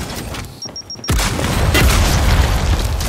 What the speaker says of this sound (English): Throwing frags.